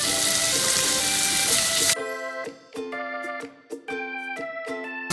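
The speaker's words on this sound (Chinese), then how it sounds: "然后我们的鸡肉，开煎" Chicken pieces going into a hot pan sizzle in a steady wash of frying noise, followed by a run of distinct crackles and pops as the meat settles in the oil, close and fairly loud with no talking.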